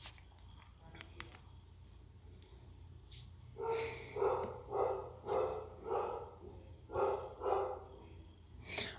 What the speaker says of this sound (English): I really, really apologize for the dog in the background.